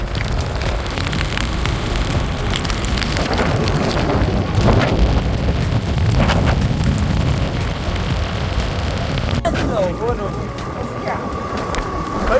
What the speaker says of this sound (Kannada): ಭಾರಿ ಸ್ಮೂತ್ ಆಗುತ್ತೆ ಗಾಳಿ.